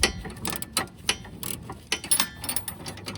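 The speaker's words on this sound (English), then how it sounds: "Just going to hold the wrench and use the ratchet." A hand ratchet backs off the nut on a sway bar end link of a Mazda Tribute or Ford Escape, giving quick bursts of clicking and metallic clatter, close and moderately loud, with no talking.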